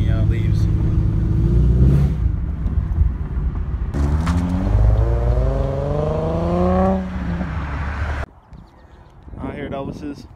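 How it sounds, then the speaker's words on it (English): A car engine revs and pulls away outdoors, a mid-pitched rising whine that climbs and fades over several seconds, followed by quieter background noise. "See if we can hear Joey's car when he leaves."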